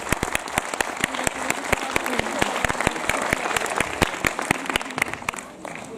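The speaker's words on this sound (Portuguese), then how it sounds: "as palmas são para vocês" An audience at a school Erasmus project event in Portugal claps steadily and fairly close, in a dense, continuous round of applause with sharp individual claps standing out.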